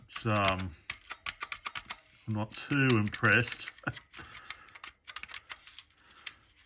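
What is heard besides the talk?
typing on an old Leningrad-1 computer keyboard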